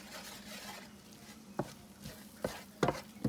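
Almond flour browning in butter in a hot skillet: a soft sizzle under a few scraping stirs of a utensil against the pan, with light clinks near the end, close and fairly quiet.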